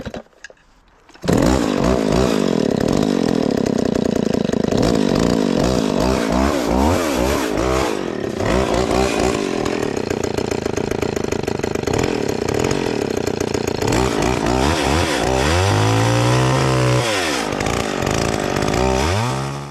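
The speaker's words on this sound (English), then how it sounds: "Probably just going to take one of my really small old saws and make it a designated marking saw" A small chainsaw cuts marks into a firewood log. After a brief quiet start the engine roars loud and close, holds a steady high drone, and revs down and up near the end.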